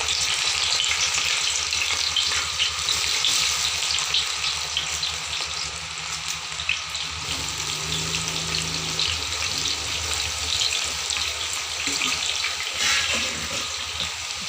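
Jackfruit pieces frying in hot coconut oil, a steady dense sizzle and bubbling that runs throughout, close and fairly loud, with occasional stirring scrapes and no talking.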